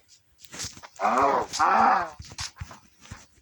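A cow in a Minecraft knockoff game lets out two drawn-out, moo-like hurt cries back to back, with scattered soft clicks and thumps before and after.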